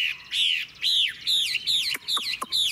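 A Chinese hwamei songbird sings close by in loud, varied whistling phrases, bright swooping notes repeated in quick bursts with brief pauses between them over a quiet background.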